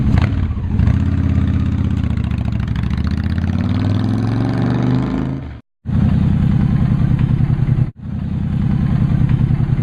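A motorcycle with a tire balancer and sealant in its tire rides along city streets, its engine droning loudly and steadily, rising in pitch through the gears with two brief cutouts at gear changes.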